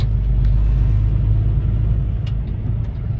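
A team truck on the road produces a steady, loud low rumble of engine and road noise from inside the cab, continuous throughout with no talking.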